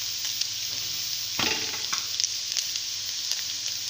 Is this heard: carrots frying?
yes